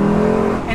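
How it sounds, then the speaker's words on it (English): Naturally aspirated V8 of a 2021 Lexus LC 500 Convertible giving a brief, loud, deep droning induction note at steady pitch, heard up close. "that's how you get that unique induction note here with this V8"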